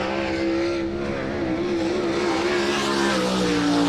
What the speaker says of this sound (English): First lap for Martin, 9th quick